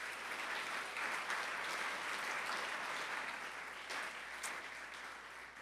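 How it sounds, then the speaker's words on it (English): An audience at an evening lecture event in a Dallas church applauds partners, the clapping steady and even for several seconds before thinning slightly toward the end. "So round of applause for the 3 partners."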